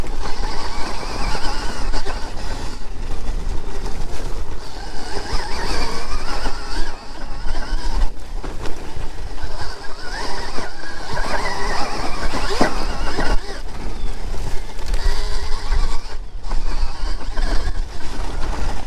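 Stark Varg electric dirt bike, about 25 horsepower on a low battery, riding a kids' mini motocross track, with a steady whine and wind rush throughout and no clear breaks.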